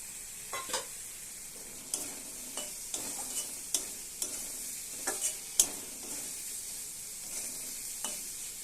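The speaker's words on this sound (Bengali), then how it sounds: "এবার চিংড়ি মাছটা দিয়ে দিলাম" Prawns sizzle in a pan of oil and fried spice paste under a steady, quiet hiss, while a spoon stirs them with soft, irregular scrapes and taps against the pan.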